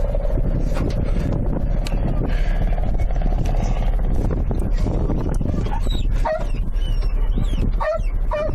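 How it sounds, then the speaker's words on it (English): A dog barks and yelps frantically during a police armed standoff outdoors, with repeated sharp barks and whimpers at mid distance over steady background noise. "That dog's going nuts right now."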